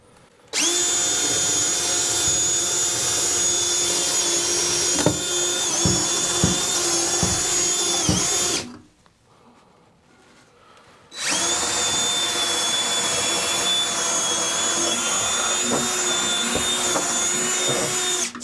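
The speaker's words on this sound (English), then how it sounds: "So I started drilling these holes here." A power drill bores holes into wood while wiring a tiny cabin, a steady loud whine running about eight seconds, a brief quiet gap, then another long sustained run, close up with occasional bumps.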